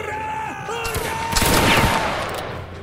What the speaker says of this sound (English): Fix the line and fire away.